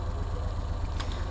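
A Suzuki K6A engine idles with a steady low rumble after an ignition coil change, close and loud, with a brief faint click partway through.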